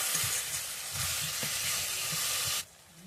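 Masala for a crab curry sizzles loudly in a pan as a little water is added, a steady frying hiss with soft stirring knocks that cuts off abruptly near the end.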